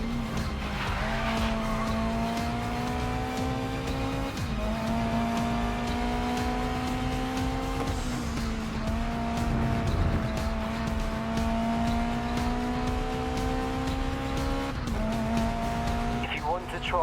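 In the GRID Legends racing game story mode, a race car engine whines through repeated rising gear pulls, with tire squeal as the car slides through corners under handbrake, loud and continuous.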